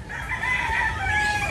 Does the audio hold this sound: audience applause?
no